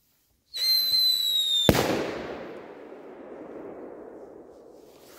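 Scream 5S firework lets out a steady rising whistle for about a second, then bursts with one sharp bang that rolls into a long fading rumble and crackle, loud and fairly close, with no talk.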